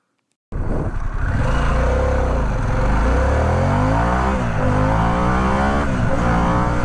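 A Harley-Davidson Pan America 1250 adventure motorcycle with its 1250cc RevMax V-twin revs hard and close, starting abruptly after a moment of silence and holding a loud, continuous engine roar with rising and falling pitch sweeps as the throttle works through the revs.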